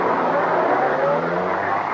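A car approaches in an audio drama sound effect: a loud, steady engine roar with a faint rising tone, close and sustained for about two seconds, with no voices.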